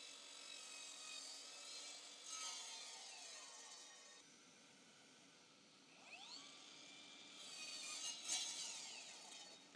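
A miter saw cuts wood, fitted with a homemade stop block: the blade whines and cuts in two quiet passes, rising and falling, with no talking.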